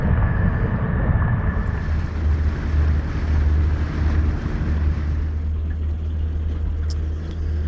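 Steady low rumble of traffic on Interstate 80 carries over the water to an anchored shanty boat, a constant broadband roar with some wind buffeting the microphone and no voices.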